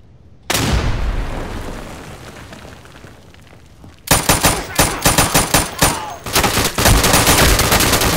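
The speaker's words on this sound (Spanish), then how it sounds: "le tiré un chingo de balazos en el cuerpo y no se murió" Gunfire in the World War II shooter game Day of Infamy: a long roaring burst, then a rapid run of loud, sharp shots in quick succession, dense and close.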